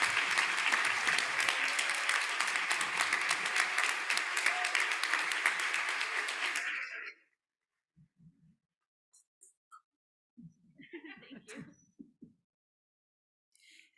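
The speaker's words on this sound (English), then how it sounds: "a well-deserved and long-awaited round of applause" Sustained applause from a commencement audience celebrating the graduating physician assistant class at a medical school's winter ceremony, loud and dense for about seven seconds before breaking off into quiet with a few scattered claps and faint murmurs.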